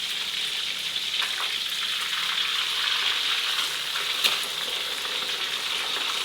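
Tilapia fries in a pan with a dense, constant crackling sizzle, close and even for the whole stretch, with no voices.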